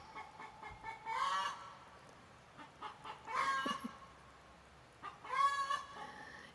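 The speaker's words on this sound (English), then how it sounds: "And the chickens are agreeing with me." Chickens cluck and squawk in three separate bursts spaced a couple of seconds apart, fairly close and modest in volume, over a quiet background with no talk.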